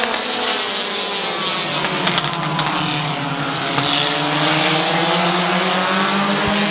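Race cars at Midvale Speedway roar past at close range, engines droning loud and steady with rising and falling pitch as the pack circles the track.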